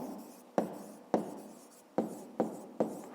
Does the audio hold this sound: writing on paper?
yes